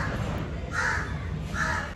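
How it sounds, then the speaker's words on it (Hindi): A crow caws near Juhu beach, two loud harsh calls close by, each lasting about a quarter second, over steady outdoor background noise. "यहाँ पे कौवा बैठा है, वो काव काव काव कर रहा है कब से"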